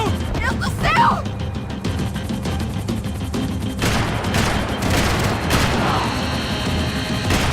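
Gunfire in the Max Payne 3 video game, loud rapid bursts of shots and booms crackling over a chase, with shouted voices in the mix.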